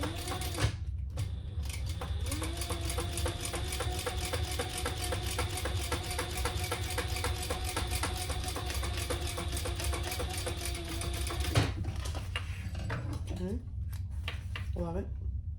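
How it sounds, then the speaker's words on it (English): Sewing machine running a long top-stitching pass on the side piece of a crossbody bag, a fast steady mechanical whir with rapid needle ticks, stopping briefly before a short restart, with talking over it. "Now we're going to turn that and top stitch on the side piece here."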